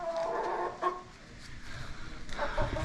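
A hen foraging and finding a bug, giving a few soft, low clucks at close range but at low volume, separated by quiet rustling.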